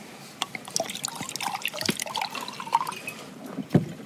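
Water trickles and drips close by, pouring in a light, uneven stream with small splashes and clinks over about four seconds.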